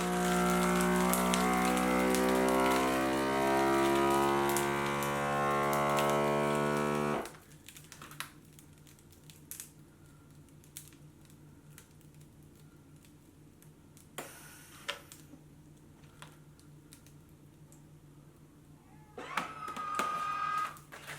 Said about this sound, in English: until it activates the vacuum sealer